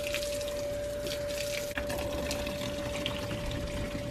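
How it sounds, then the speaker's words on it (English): Steady rush of water from a tap or hose filling a children's plastic water table outdoors, continuous and fairly loud for the whole stretch with a steady background hum. "Fill up the water table for Sissy, please."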